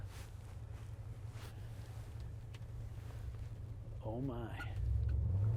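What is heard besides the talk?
limousine driving on the road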